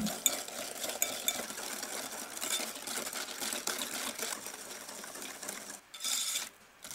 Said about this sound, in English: Just quickly re-whisk the egg mixture and then slowly whisk in the butter